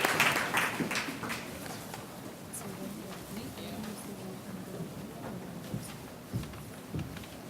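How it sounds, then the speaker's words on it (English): An audience at a Montreal forum event applauds, a dense wash of clapping strongest at the start and then thinning as voices talk over it. "And one last big round of applause for Gregory Charles"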